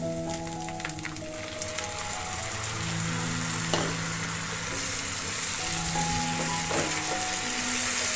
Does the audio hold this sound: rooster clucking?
no